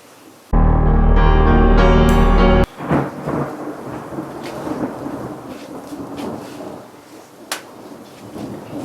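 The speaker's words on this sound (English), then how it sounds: "You guys hear that thunder? That's crazy." A heavy thunderclap booms loudly over a garage during a drag car build, then steady rain hisses on for several seconds, with a few sharp taps and knocks breaking through.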